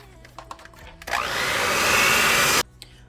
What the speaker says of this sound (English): And I'm going to whisk this up until it's nice and smooth.